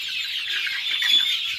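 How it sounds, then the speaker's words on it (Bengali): Native desi chickens about 53 days old on a Bangladeshi poultry farm make a continuous, thin, high-pitched chorus of cheeping and clucking at moderate loudness. No voices can be heard. "এই যে দেখছেন দেশি মুরগি"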